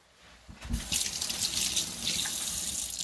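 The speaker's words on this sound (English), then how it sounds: "I got to wash my hands again" A kitchen tap turns on after a brief quiet moment and water runs steadily into the sink as hands are washed, a close continuous splashing rush.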